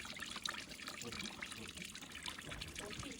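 Cold water trickles and pours steadily into homemade Aawambo traditional beer, a soft continuous splashing that stays fairly quiet under a busy background of other noise.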